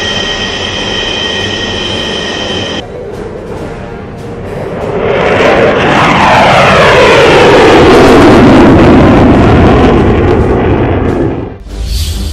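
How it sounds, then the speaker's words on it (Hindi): Fighter jets at an air show roar overhead in a loud, continuous wash that swells and sustains, with a shifting pitch as the aircraft pass, and no voices heard. "फाइटर जेट्स के जोर से जब थर्रा उठा आसमान"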